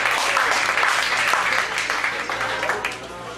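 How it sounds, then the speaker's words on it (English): An audience at a mentalism show at Wonderground breaks into lively applause, dense clapping that holds strong and gradually eases off slightly toward the end. "everybody give him a big round of applause"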